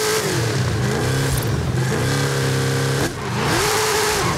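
A modified 1968 Pontiac Firebird in Forza Horizon 5 revs hard during a wheelie attempt, its loud engine note climbing and falling in repeated surges, with a brief drop before rising again.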